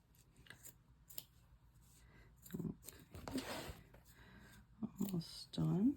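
Scissors cutting fabric for an applique stuffie, a few soft snips near the microphone over quiet room tone, with a louder crunchy cut toward the end.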